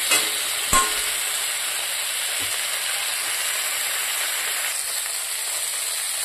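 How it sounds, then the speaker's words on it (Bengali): Potatoes and drumsticks frying in a pan, a steady hissing sizzle throughout with an early sharp clatter, close and without voices. "এদিকে হয়ে গেছে আলু আর সজনে কষানো"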